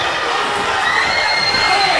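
A large crowd at a wrestling event roars and cheers loudly and steadily, with high-pitched children's shouts and screams rising over the din.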